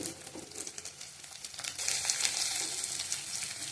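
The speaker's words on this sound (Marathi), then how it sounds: "हे सर्व गॅस मोठा ठेवून परतून घ्यायचं व्यवस्थित" Onion, beans, carrots and peas stir-frying in a pan over a high flame, giving a steady crackling sizzle with scraping stirs that grows louder and denser toward the end, with no voices.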